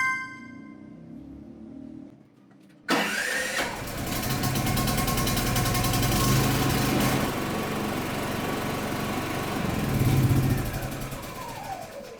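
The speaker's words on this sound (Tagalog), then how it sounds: "Simulan na natin i-start yung generator na to sa iba't ibang way or iba't ibang option ng pag-i-start sa generator na to." Philking PK8000i fully automatic dual fuel generator cranking and catching after a couple of quiet seconds, then settling into a loud, steady, buzzing engine drone that runs on with a slight surge near the end.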